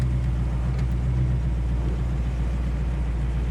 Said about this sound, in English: So we're gonna run it through all 4 gears here as we take our right-hand turn.